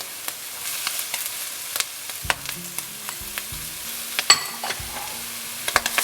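Crab fried rice with green peas and chopped carrots stir-fried in a hot pan, a steady sizzle broken by scraping and clacking spatula strokes against the pan, close and without talk.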